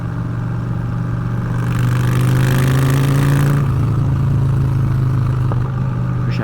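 A Honda Fury motorcycle ridden on the road, its engine rumbling and rising in a steady rev under broad wind rush, loud and close throughout.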